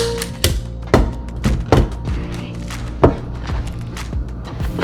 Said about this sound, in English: It will get easier the more you staple.